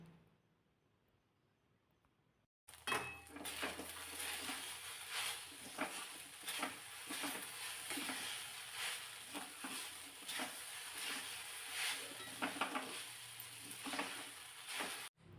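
Sabudana khichdi sautéed in a pan sizzles steadily after a quiet start, with rhythmic stirring scrapes recurring throughout at close range and no voices.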